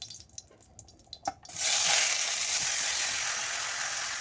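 Ash gourd pieces drop into hot oil in a kadai: a few soft clatters, then a sudden loud, sustained hiss of frying that stays steady and close.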